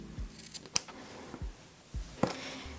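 Scissors snip through embroidery thread: several short, crisp cuts spaced irregularly and close up, with soft handling noise between them and no talking.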